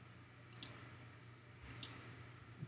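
A computer mouse clicks in photo editing software, two quick pairs of sharp, faint, close clicks about a second apart over a quiet hum.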